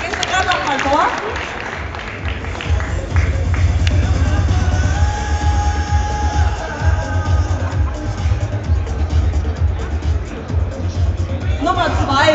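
Audience applause at the Miss Grip beauty contest in Hamburg, a steady crowd clapping with cheering and murmur through the whole stretch, loud and sustained, with an announcer's voice coming in near the end.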